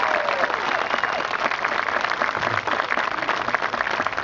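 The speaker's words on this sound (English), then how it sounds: "So let's all give a great round of applause to Admiral Harvey for his tremendous service" Sustained applause from a large audience at a Veterans Day address, dense and even, continuing steadily without pause.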